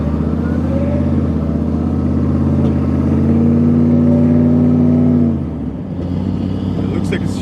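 A third-generation Chevrolet Camaro fitted with a 4L80E automatic transmission drives on a test run, its engine droning and rising steadily through the gears before dropping back, with someone talking over the cabin noise.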